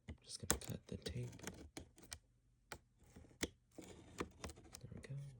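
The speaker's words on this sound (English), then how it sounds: "I'm just gonna cut the tape." A blade slicing through packing tape on a Furby box, giving a run of quick close clicks and scratchy rips in an irregular rhythm, moderately soft.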